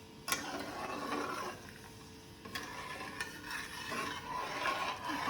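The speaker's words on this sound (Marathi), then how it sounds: "साखर विरघळेपर्यंत आपण बारीक गॅसवर हलवून घेऊया" Sugar syrup is stirred in a pan over a low gas flame, with a soft bubbling hiss and intermittent spoon scrapes and taps against the pan, fairly faint and close.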